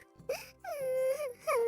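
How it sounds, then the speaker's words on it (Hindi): A cartoon kite bird crying loudly, with several high wavering wails and moans, the longest drawn out in the middle, over a soft low background. "जोर जोर से रोने की आवाज उन दोनों को सुनाई देती है।"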